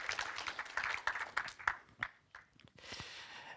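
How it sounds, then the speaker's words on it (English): A small conference audience claps after an introduction to a software talk, a scattered, moderately quiet round of applause that thins out, pauses briefly, then returns as a softer patter. "So please give them a warm applause"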